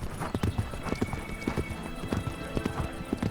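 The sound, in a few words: horse hooves clip-clopping and neighing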